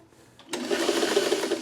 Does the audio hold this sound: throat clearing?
no